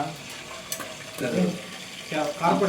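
Green chillies and onions stirred and sizzling in a pan for a fish curry, a steady fry hiss with scraping stir strokes that swell twice, and no talk.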